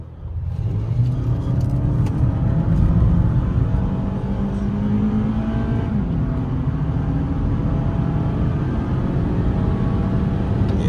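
A 2021 Toyota Camry SE engine builds and pulls strongly, its pitch rising steadily as the car accelerates, loud and close with constant road rumble underneath.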